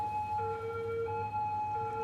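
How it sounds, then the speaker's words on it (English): Faint wailing sirens in the city-building game Cities: Skylines rise and fall in alternating tones over a low ambient hum, steady and somewhat distant, with no voices. "all those annoying sirens"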